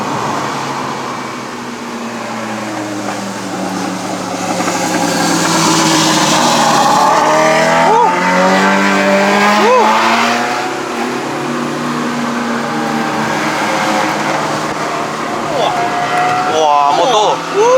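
Engine of a 2014 Proton Suprima S 1.6 turbo hatchback driving uphill on a mountain road in Malaysia, a steady mid-pitched drone that rises and falls with revs, with cabin road noise and someone talking throughout.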